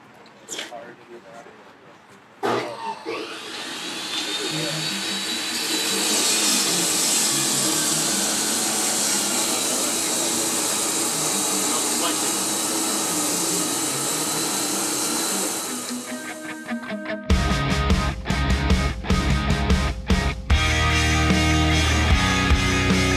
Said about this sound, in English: We're going to do it with our traditional bonded abrasive cutoff method.